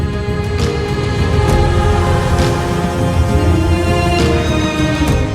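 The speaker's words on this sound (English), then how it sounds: "It's the Alphorn." Deep, sustained alphorn tones resonate across the Swiss Alps, a full, continuous sound holding steady without pause and with no talking.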